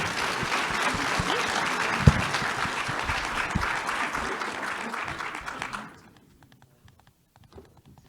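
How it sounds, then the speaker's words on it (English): A conference audience gives a panel a warm round of applause: steady, full clapping for about six seconds that then stops abruptly, leaving near silence with a faint thump or two. "let's give our panel a warm round of applause"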